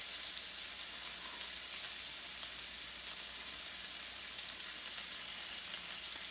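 Onion and red pepper fry in a skillet with bacon for succotash, giving a steady loud sizzle and crackle that stays even throughout, with no talking.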